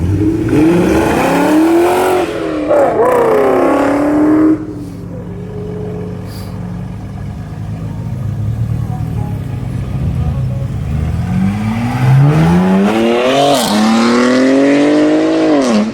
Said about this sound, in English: This M5 sounds good, guys.